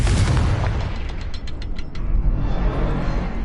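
Confringo fire spell explosion in Hogwarts Legacy, a loud booming blast with rumbling low end and a few bright crackling ticks trailing after it.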